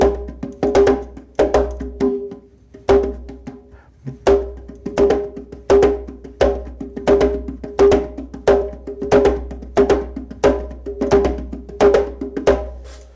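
A single drum is struck in a fast, steady, repeating rhythm of grouped beats, close and loud, played alone for about thirteen seconds with only a short pause near the start.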